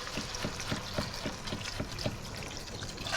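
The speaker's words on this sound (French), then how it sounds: "On va mettre du vin blanc." White wine being poured into a hot pan holding mussels, a faint, rhythmic splashing trickle over a soft background hiss, with no talking.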